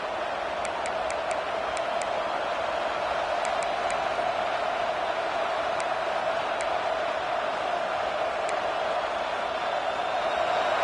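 A steady, even roar from the crowd fills a college football video game between USC and Miami, a constant wash of stadium noise with faint ticks on top.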